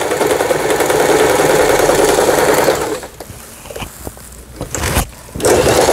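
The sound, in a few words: Elna 220 sewing machine stitching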